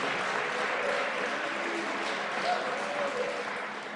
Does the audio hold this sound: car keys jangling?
no